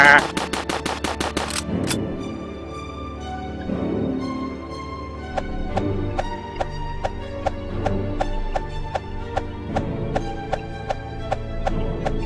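Rapid bursts of automatic gunfire from a video game, a fast volley at the start followed by sharp regularly spaced shots, heard over game background sound.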